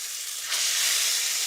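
Meat hits hot ghee in a pan and bursts into a loud, bright sizzle partway through that holds steady, up close with no voices.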